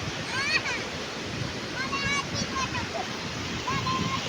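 Ocean waves wash and rush onto the beach at Ganpatipule, a steady surf roar with gusty swells, while people shout and call out over the water.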